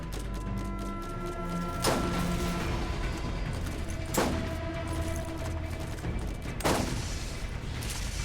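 A gun in Borderlands fires three sharp shots, widely and slowly spaced over a steady hum of game ambience, close and loud with no talking.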